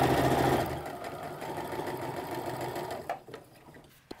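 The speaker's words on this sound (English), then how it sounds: "feed a bunch of these guys through the sewing machine with that 1/2 inch stitch" A sewing machine runs in a fast, steady mechanical buzz for about three seconds while stitching fabric apron straps, then slows and stops with a few clicks and thumps.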